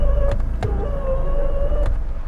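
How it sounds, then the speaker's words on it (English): A broken Mongol Rally car's weak horn gives a thin, wavering bleat for about two seconds, cut by a few short clicks, close and loud over a low engine rumble. "Wait, let me hear the horn again."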